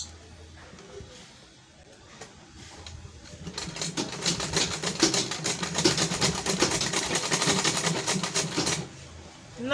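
A Butterfly manual sewing machine stitches a handbag inseam. A soft start builds into a rapid, steady mechanical clatter of stitching, which then stops, with a voice speaking briefly around it.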